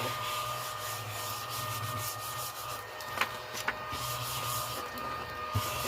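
An eraser rubs back and forth on paper during scrapbook colouring work, a steady soft scrubbing that runs the whole time with a few faint taps over low background hum.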